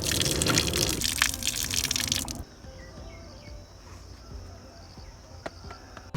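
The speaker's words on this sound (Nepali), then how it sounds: "यहाँ चिसो पानी यहाँ" Cold drinking water runs from a tap at a roadside drinking spot in Gundu, Bhaktapur: a loud, steady gush for about two seconds, then it drops to a faint trickle amid quiet outdoor ambience and chirping insects.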